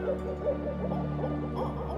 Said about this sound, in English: the snowy owl swoops down with terrifying speed and precision